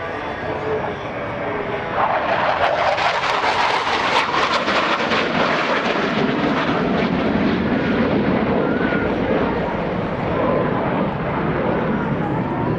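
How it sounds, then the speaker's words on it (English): US Navy Blue Angels F-18 jets at the 2016 NAS Oceana airshow, a loud, swelling jet roar that builds and sustains as the aircraft pass overhead, with a commentator's voice over the noise. "Approaching inverted from the left and right, they'll roll their aircraft 360 degrees over center point."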